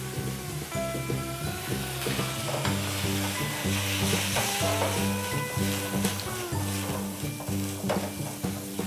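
Risotto rice sizzling and frying loudly in a pan as white wine is poured in, with steady crackle and stirring scrapes throughout.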